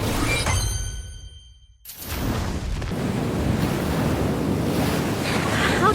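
Ocean surf in the video game Love and Deepspace, a loud windy roar that drops away briefly, then swells back as a constant rushing wash of waves.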